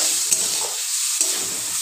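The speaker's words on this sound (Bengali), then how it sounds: "আবারও ভালোভাবে সব কিছু একসাথে নাড়তে থাকবো।" Egg and flour batter seasoned with Maggi masala being stirred, a steady close scraping swish with a couple of sharper clinks of the utensil against the bowl, no talking.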